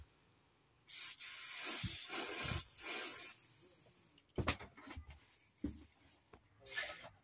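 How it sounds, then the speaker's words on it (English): Brake cleaner sprayed from an aerosol can during work on a diesel particulate filter pressure sensor, several close hissing bursts of varying length with short pauses and small knocks between them. "I'm going to use some brake cleaner now to spray that out."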